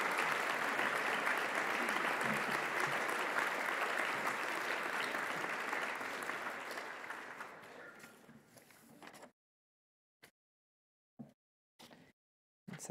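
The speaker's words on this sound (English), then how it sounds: "Let's give them all a large hand of applause." Sustained applause from a large audience at a county judges' installation ceremony, loud and steady for about eight seconds before fading out, then a few brief isolated sounds in the quiet.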